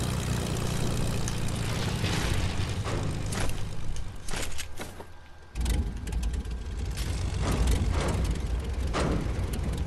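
A propeller airplane engine in a multiplayer battle-royale video game drones loud and steady, dipping briefly midway before returning at full strength, with no talk over it.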